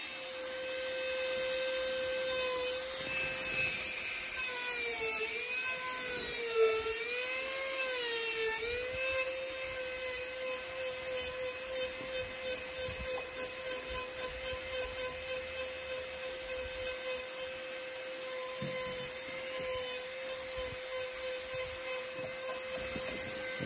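A high-pitched Dremel rotary tool whines steadily up close, its pitch dipping and wavering as the sanding drum is pressed against carved wood, then holding a constant tone.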